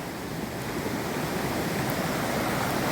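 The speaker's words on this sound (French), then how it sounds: "De se dynamiser avec cette eau bien courante." Close, steady rush of running water from a stream or cascade, a dense continuous wash that stays even throughout with no voices.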